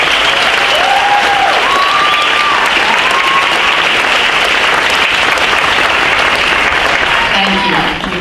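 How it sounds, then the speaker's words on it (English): Loud, sustained applause fills a nursing pinning ceremony as the audience claps steadily for award nominees, with a few voices and cheers faintly audible inside the continuous clapping. "Please give these nominees a round of applause."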